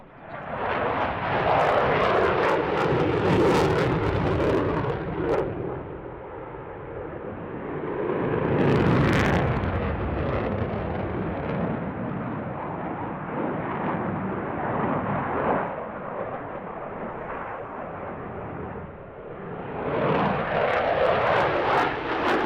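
A Su-27 fighter jet roars through an airshow display, its engines loud and continuous, swelling and easing as it maneuvers, then building again toward the end, with no talk.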